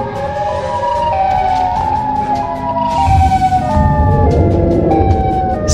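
Siren Head's siren wailing in a video game, a loud electronic tone with stepped, gliding pitches that rise and fall, sounding steadily for several seconds with no talking.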